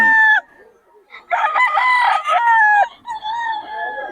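Nearby young rooster, a stag, crowing in a strained, uneven call with a brief lead-in and a long wavering crow, loud and close, ending in a shorter trailing note.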